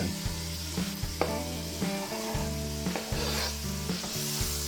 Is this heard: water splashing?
no